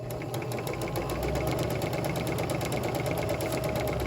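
A sewing machine stitches pillow fabric with a steady, fast mechanical whirr and a regular needle clatter that runs unbroken throughout at moderate volume.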